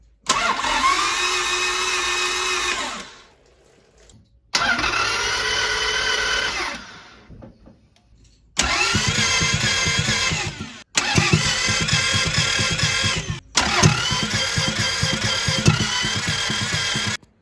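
A Toyota MR2's engine cranks repeatedly in long whirring bursts separated by short pauses, loud and close, never catching into a steady run.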